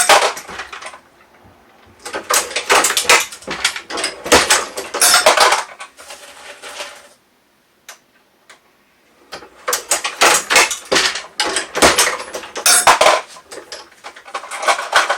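A Dillon 750 XL progressive reloading press is cycled to load a round, giving bursts of loud metallic clanks, clicks and rattling of parts in quick succession, close up, with a brief pause midway.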